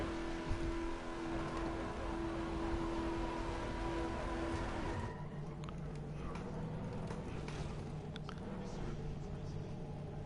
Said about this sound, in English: Love the sound of that car, man.